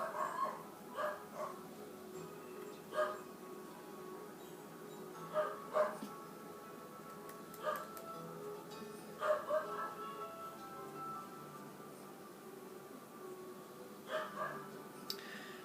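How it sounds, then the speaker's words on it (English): A dog barks repeatedly in short irregular bursts, somewhat distant and muffled, over a steady low background hum. "If you guys hear barking in the background"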